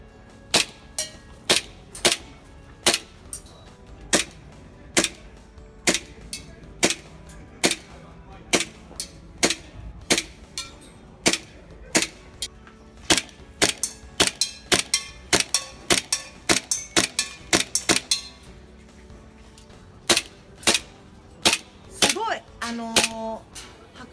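Repeated sharp shots from a Resident Evil Samurai Edge anniversary special color airsoft pistol, fired one at a time at an irregular pace, each a crisp close crack with a light mechanical snap, and faint handling clicks near the end.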